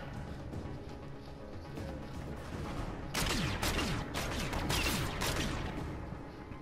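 Gunfire in Call of Duty: Infinite Warfare, starting as a low background rattle and then swelling into a loud, sustained burst of rapid automatic shots in the second half.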